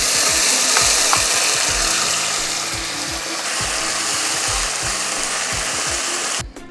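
Steady sizzle of spice paste hitting hot oil in a pan while cooking Telangana-style fish pulusu, a continuous bright hiss with faint scraping or stirring taps underneath, no talking.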